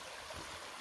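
Stream water flows steadily at an Appalachian Trail shelter, a faint, continuous rushing wash with no other sounds or voices.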